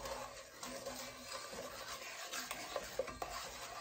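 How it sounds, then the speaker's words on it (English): Sugar scrapes and grinds as it is stirred in a pot while dissolving for pecan candy. The spoon makes a continuous gritty rasping with uneven strokes and small knocks against the pot, and the sound is quiet and close. "Until you hear the sugar dissolve. See how you hear the sugar?"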